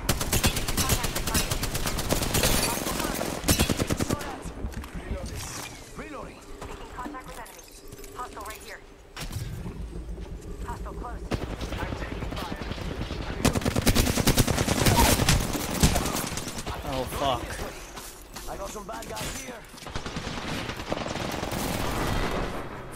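Loud bursts of rapid automatic gunfire crackle through a video game shootout, with dense volleys and short lulls between them and voices faintly under the firing.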